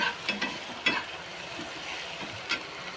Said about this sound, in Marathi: कांदा चांगला लाल भाजून घ्यायचा.